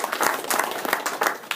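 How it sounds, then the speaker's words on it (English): Audience applauding at a chainsaw carving rendezvous, a dense wash of many hands clapping steadily at moderate volume for the whole short stretch, with no voices standing out. "Go ahead and give them a round of applause."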